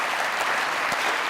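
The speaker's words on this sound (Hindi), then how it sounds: "सिर्फ उस ड्रामे का राइटर ताली बजाएगा।" Applause from a studio audience at a Pakistani comedy talk show, steady dense clapping filling the whole short moment with no voices over it.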